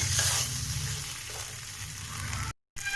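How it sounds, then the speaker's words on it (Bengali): Potato pieces for aloo kabli fry in spiced masala, a close, steady sizzle with stirring, cut by a brief moment of silence near the end. "এবার আমরা আলুটা এর মধ্যে দিয়ে ফ্রাই করে নেব"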